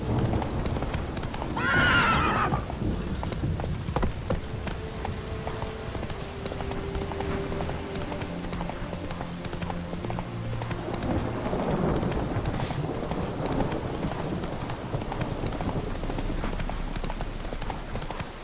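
Horse hooves clip-clop at a gallop in a video game, with a loud whinny near the start, steady rhythmic hoofbeats underneath and rain and thunder-like ambience behind.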